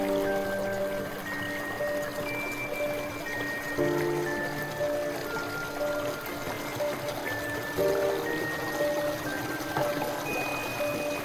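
Small mountain streams on the Horton Plains flow in a continuous bubbling, trickling wash, steady and moderately close, with faint tonal bird-like notes drifting over the water.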